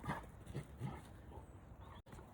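A Rottweiler farm dog makes soft whimpering and yipping noises close by, in short uneven bursts.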